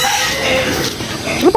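Native chickens cluck and a rooster crows briefly while they are being fed a mash of tofu pulp, the calls loud and close against a steady outdoor hum.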